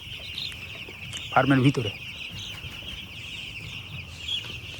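Young chickens in a village poultry farm keep up a steady mass of high peeping, and a single louder cluck stands out midway. Someone speaks briefly over the flock.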